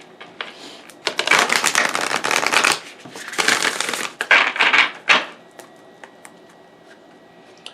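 A deck of oracle cards is shuffled up close in several quick riffling bursts of crisp papery flutter, separated by short pauses and scattered light taps.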